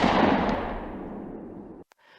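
A single loud gunshot cracks in a tense thriller scene, then rolls into a long, fading boom that dies away into near silence, followed by a faint short tail.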